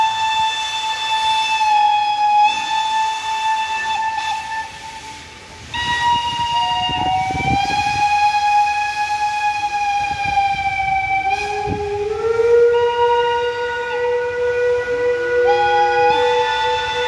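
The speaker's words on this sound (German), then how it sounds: "Ausfahrt des Überführungszuges aus Göppingen nach Nördlingen" A transfer steam train of the Pinzgauer Lokalbahn pulls out on departure and sounds its whistle loudly and close. Long sustained blasts repeat with short breaks, over a low rumble from the train.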